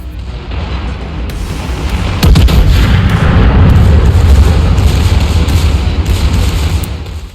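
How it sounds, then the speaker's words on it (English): Secondary guns of the Tier 11 German battleship Hannover firing in a naval combat game: a loud barrage of booming, repeated cannon blasts rolls on continuously, with sharp reports layered over heavy low rumble and no talking. "Here's a good chance to see how the secondaries can help me out here."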